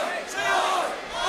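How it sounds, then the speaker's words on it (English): Wrestling crowd in the Ocean View Pavilion arena chanting together, a dense sustained roar of many voices filling the hall, loud and continuous. "The Oi chants echoing throughout the arena"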